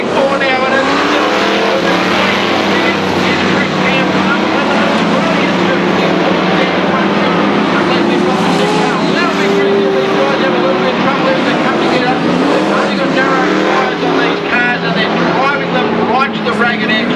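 Sprint cars race around a dirt oval in a 1999 title meeting, loud screaming engines rising and falling continuously as the field passes, with a commentator talking over the noise.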